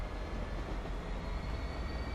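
A train runs in the Transport Fever video game, a steady low rumble with a faint high whine, continuous and unbroken for a couple of seconds, with no speech.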